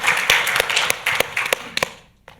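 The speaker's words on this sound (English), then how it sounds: "Let's give him a little round of applause." Live audience at a podcast industry conference panel applauding and clapping briefly for a panelist, a burst of claps with a few sharper individual hand claps standing out, fading quickly to quiet.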